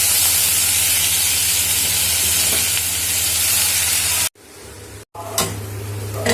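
Squeezed banana flower, soaked in buttermilk, hits a pan of sautéed onions and sizzles in a loud, steady hiss that drops out briefly twice before the frying noise returns, close by with no talk.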